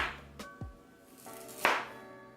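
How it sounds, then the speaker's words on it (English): A knife slices through fresh ginger on a cutting board, giving a few separate crisp chopping knocks spread out and close by, with quiet pauses between. "so I'm just gonna cut some nice slices"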